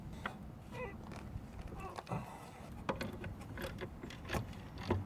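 A ratchet wrench works stubborn 15mm bolts on the handbrake assembly of a Jaguar XJ6 X300, giving close, intermittent creaks and clicking ratchet strokes over a steady low mechanical rumble.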